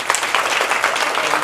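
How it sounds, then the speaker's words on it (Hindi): Audience applause for a child named Keshav at a National Myopia Week event in India, a steady burst of clapping from the crowd lasting about a second and a half, with a voice faintly over it. "तो केशव के लिए जोरदार तालियां"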